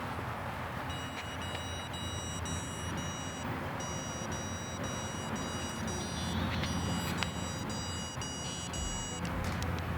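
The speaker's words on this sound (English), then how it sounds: "that beeping on the device is on me, so she can get used to hearing the sound" Rapid high electronic beeps from a dog training device come in repeated bursts over a loud, steady rumble of traffic or engine noise.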